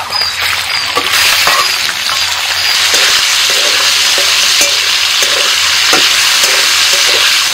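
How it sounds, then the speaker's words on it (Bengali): Small chicken pieces frying with browned garlic in a pan: a loud, continuous close sizzle with occasional stirring scrapes and clicks, no voices. "রসুনটা একটু লাল করে ভেজে নিয়েছি, এবার এর মধ্যে আমি দিয়ে দিচ্ছি চিকেনের যে ছোট ছোট পিসগুলো করে রেখেছিলাম সেটা দিয়ে দিচ্ছি"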